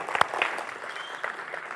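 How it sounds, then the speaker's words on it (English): Audience applause greets a speaker at a tech conference talk, a thin, modest clapping with a few sharper individual claps early on, fairly quiet and brief. "applause for Srdjan Vranac"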